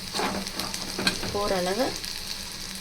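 Ginger and garlic sizzle in a hot pan, a steady crackling fry with occasional stirring scrapes, while someone talks over the cooking.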